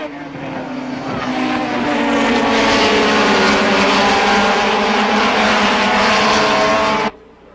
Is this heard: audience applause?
no